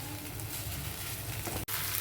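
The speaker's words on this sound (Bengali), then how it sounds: "মাছগুলো দিয়ে আরেকটু কষিয়ে নিয়ে জল দিয়ে দেব।" Prawns fry in masala for malai chingri, a dense, even sizzle close to the pan, steady for two seconds apart from one brief dropout, with no talk.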